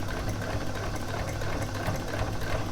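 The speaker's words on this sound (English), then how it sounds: "then we are stitching along the edge" A Janome sewing machine fitted with a taping guide foot stitches binding along an item's edge, running as a steady, moderately quiet, even whir with no talk.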